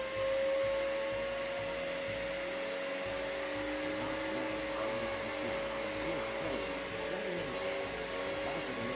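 A vacuum cleaner, pitched as a floating model in a comedic product advert, runs with a steady loud motor whine and airy hiss that holds level throughout, with faint voices underneath.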